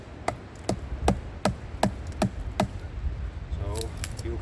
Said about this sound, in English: you split wood with ease, no problem